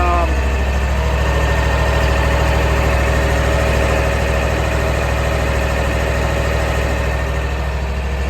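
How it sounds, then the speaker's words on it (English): A Kawasaki 22-horsepower engine on a Toro riding mower idles steadily at low revs, a smooth, constant mid-low drone with faint vibration and no speech. "this is what the Toro sounds like, the 22 horsepower Kawasaki"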